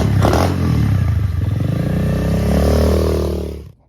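A pit bike engine revs hard and pulls away without hesitation, a loud, close, rising buzz that holds and then drops off abruptly.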